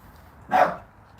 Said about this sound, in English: You can hear him barking, Mia.